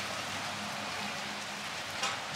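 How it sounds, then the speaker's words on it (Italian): Heavy rain pours down steadily outdoors, a soft, even broadband hiss with no speech, and a brief brighter patter near the end. "sta piovendo a dirotto"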